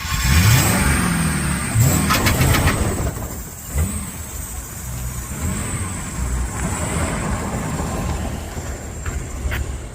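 A Ford F-250 pickup engine revs hard for a neutral drop, with a loud rising roar at the start, then a steady mid-pitched drone and repeated throttle surges heard close from on board.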